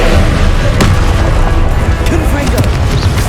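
Spell blasts from the Hogwarts Legacy video game, the Confringo explosion spell, land as loud booming bursts in dense combat noise, with a voiced cry heard amid the impacts.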